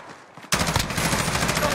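Gunfire in a first-person shooter video game, heard as a dense, steady burst of automatic shots that starts abruptly after a quiet moment and continues at moderate loudness, sounding distant rather than right up close.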